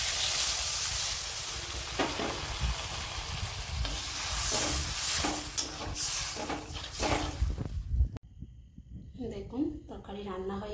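Soybean and egg fritter curry sizzles and bubbles in a pan as water is added, with scraping stir strokes, then the frying noise cuts out and someone speaks over a quieter simmer.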